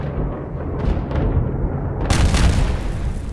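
Turret blasts and explosions roar through a science-fiction space battle, a dense rumbling barrage with a louder burst of booming impacts toward the end.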